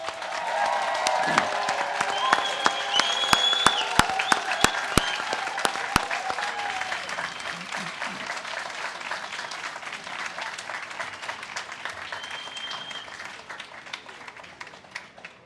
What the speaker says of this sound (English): I would just offer this as an opportunity to applaud again our graduates